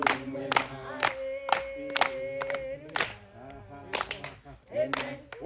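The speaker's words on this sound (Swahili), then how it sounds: "Pigia Bwana makofi, sababu wema." A crowd at an estate groundbreaking event claps along in rhythm while singing a gospel chant. Sharp, regular handclaps ring out under loud group singing.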